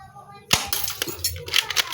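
Glass cracking and shattering as shots from a Neoforce air gun strike it, a sharp crack at the start followed by a run of smaller breaking and clinking impacts, loud and close.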